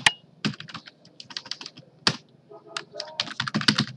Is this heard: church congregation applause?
no